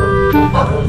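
A dog barks near a pier by the sea during a typhoon update in Balatan, with a couple of short yips over steady wind and background noise, and people talking nearby.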